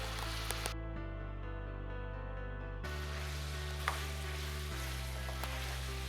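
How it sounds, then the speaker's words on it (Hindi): Food sautés in a pan, a close, constant sizzle and crackle over a low, steady hum, with a couple of faint clinks along the way. "इसको हम अच्छे तरीके से भून लेंगे।"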